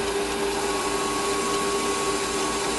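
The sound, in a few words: lathe facing cut on a metal part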